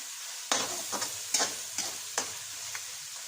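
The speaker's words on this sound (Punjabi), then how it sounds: "ਆਪਣਾ ਜੋ ਮਸਾਲਾ ਭੁੱਜ ਕੇ ਤਿਆਰ ਹੋ ਚੁੱਕਾ ਹੈ ਮਸਾਲੇ ਨੇ ਤੇਲ ਛੱਡ ਦਿੱਤਾ ਹੋਇਆ ਹੈ" Masala spices sizzle in hot oil in a pan while being stirred, with a steady frying hiss and several sharp scraping stirs close up.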